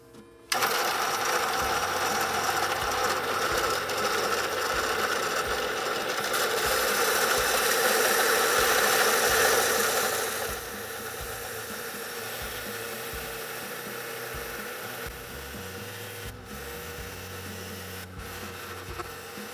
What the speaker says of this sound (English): Gonna cut it into 4 strips and attach all of them so that I can have a nice little black border. So let's go over to the bandsaw and do that.